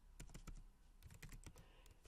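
Quiet, close clatter of typing on a computer keyboard at a terminal, quick irregular bursts of keystrokes with a short pause midway.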